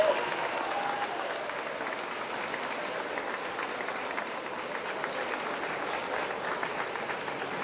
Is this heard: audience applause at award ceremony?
yes